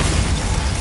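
Bombarda spell exploding in a Hogwarts game, a short, loud, dense blast with deep rumbling low end, close and filling the brief moment alone.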